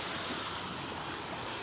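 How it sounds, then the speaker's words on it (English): Ocean waves washing onto a beach in North Naples, Florida, a soft continuous surf hiss heard alone on a quiet morning. "Just the sounds of the waves this morning."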